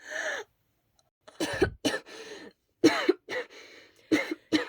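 A close, harsh coughing fit: a run of hacking bursts in uneven clusters, with short breathy pauses between them.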